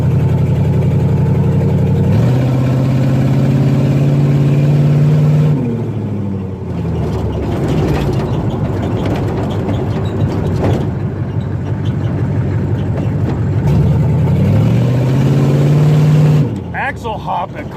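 A 1987 Chevrolet Monte Carlo with a swapped-in 6.2L diesel engine drones loudly from close by, idling, then climbing in revs and settling twice, with people talking over the engine.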